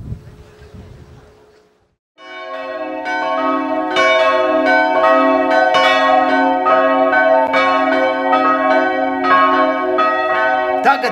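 Riga Cathedral's restored set of nine church bells rings out loud and sustained, overlapping peals with repeated strikes following a brief stretch of wind noise.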